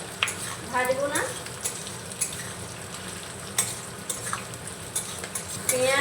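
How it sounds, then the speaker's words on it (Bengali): Onion and capsicum frying lightly in a pan, an even sizzle with spatula scrapes and occasional metal clinks as the pieces are stirred, heard close with no talking. "পেঁয়াজ আর ক্যাপসিকামটাকেও আমি হালকা ভেজে নেব, একবারে কড়া করে ভাজবো না।"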